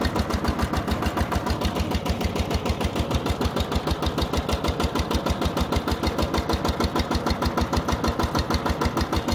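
A walking tractor fitted with steel wheels and a ridging attachment cuts furrows in a sloping field. Its engine chugs in a rapid, steady rhythm, loud and close, with no voices.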